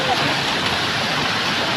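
Steady, dense rushing of falling water, a continuous broadband roar close by with no clear breaks.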